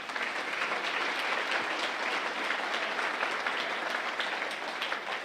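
An audience at a Kansas Master Teacher Awards ceremony applauds the teacher nominees, a dense, steady round of clapping that holds at an even level throughout.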